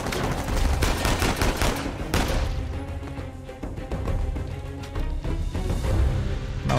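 Gunfire in the video game Uncharted 4: A Thief's End, loud dense bursts of rapid shots and crashes running continuously with short pauses, close and heavy, with no talking over it.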